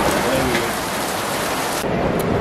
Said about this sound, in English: it is raining outside and it's so gloomy